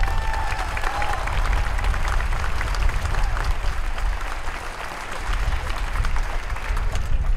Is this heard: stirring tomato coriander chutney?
no